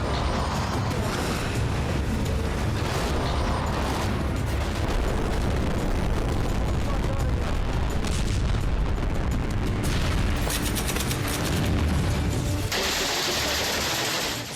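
Dense, continuous roar of war in Afghanistan: artillery blasts, explosions and gunfire merge into a loud, unbroken barrage, with a sharp hiss near the end.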